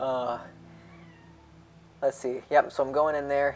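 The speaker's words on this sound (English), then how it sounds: "you can probably hear my cat in the background" A cat meows near the start, a drawn-out plaintive call, before a person starts talking over a quiet room background.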